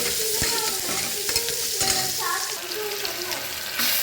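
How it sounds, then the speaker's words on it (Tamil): Chopped onion goes into a hot pan of popping mustard seeds and cumin, giving a steady loud sizzle with scraping stirs throughout. "ஃபைனாக சாப் பண்ண ஆனியன் போட்டுக்கலாம்."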